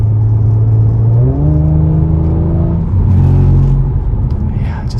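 A 2019 Audi RS5 Sportback engine revs hard under acceleration, its pitch climbing in steps through gear changes, then easing off the throttle, loud and close with road rumble and a voice faintly underneath.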